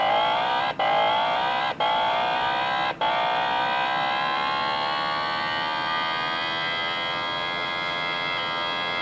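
A first-generation Suzuki Hayabusa engine held on the rev limiter in first gear with the throttle wide open, a loud sustained high whine that cuts out sharply three times early on and then slowly climbs in pitch.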